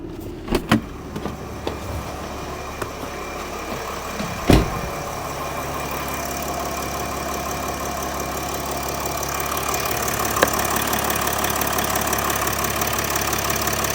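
A 2012-2016 Mercedes-Benz GL 350 (X166) with the OM642 diesel engine idles after an EGR valve replacement, a steady low hum with a few brief clicks and knocks near the start, moderately quiet and heard alone.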